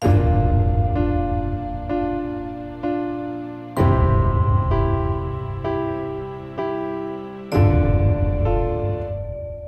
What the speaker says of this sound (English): So we have the cellos, cello multis, and violin multis on there.